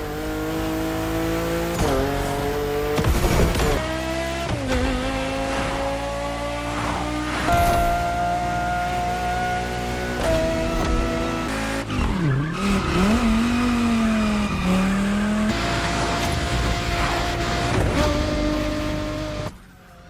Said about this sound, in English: Almost every car sounds exactly how you would expect